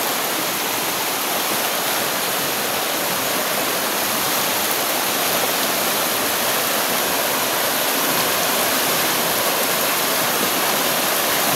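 Strong, fast water rushing beside a footpath, a dense, steady roar that fills the whole clip without pause, loud and close, like a swollen stream or cascade.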